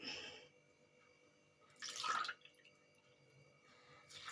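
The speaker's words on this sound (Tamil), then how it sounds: "இப்போ ரெண்டு கப் அரிசிக்கு நான் நாலு கப்பு தண்ணி விட்டுக்கங்க" Water is poured into rice for a green gram pulav: a brief splashing pour mid-clip between quieter kitchen background, with a shorter pour starting at the end.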